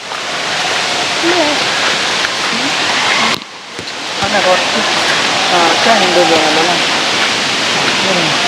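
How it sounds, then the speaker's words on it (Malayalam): A waterfall heard from a forest trail as a steady, loud broadband rush of falling water, continuous apart from a brief dip, with faint chirps on top. "നമ്മള് വെള്ളച്ചാട്ടത്തിന്റെ സൗണ്ട് കേൾക്കുന്നുണ്ട്"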